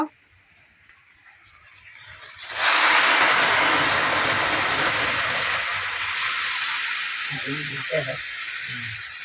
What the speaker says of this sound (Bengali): এখন আমার কষা হয়ে গেছে, এখন এই ভাতের মারটা দিয়ে দেব।